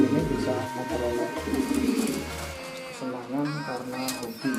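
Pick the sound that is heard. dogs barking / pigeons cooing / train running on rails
pigeons cooing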